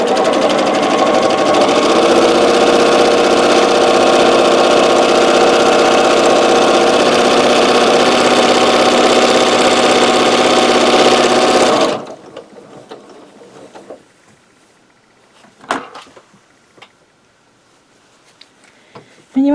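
A sewing machine stitches microwaveable bowl potholders in one loud, steady run of about twelve seconds, then stops abruptly, leaving quiet handling clicks and rustles.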